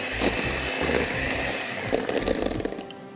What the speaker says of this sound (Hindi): निकालिए अब इसको अच्छी तरह और ब्लेंड कर दीजिए